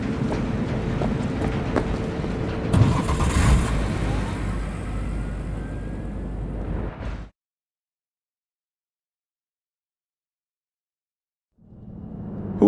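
Car driving in Cyberpunk 2077: a steady engine and road rumble for about seven seconds, then a sudden cut to silence, with the vehicle rumble returning near the end.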